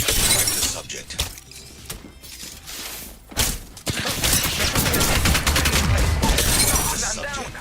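Gunfire in the Apex Legends battle royale game, rapid automatic bursts and shattering impacts crackling loudly over a busy mix, with a voice talking through the action.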